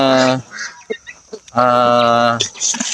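Rhode Island Cross Native chickens cluck and call close by in a few loud, harmonic bursts, with a short pause between them.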